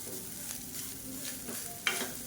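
Cooked rice being stirred into raw banana masala in a pan, soft steady sizzle with scraping and mixing strokes, moderately quiet, ending in a sharper clink near the end.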